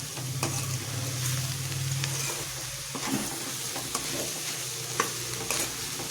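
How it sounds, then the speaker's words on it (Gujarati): A spoon stirs beetroot laddu mixture with sugar in a pan over a low flame, soft scraping and gentle sizzling with occasional sharper clinks against the pan, close by and without talk. "ખાંડ ઓગળે ત્યાં સુધી આપણે આને ધીમે ધીમે ચલાવતા રહીએ"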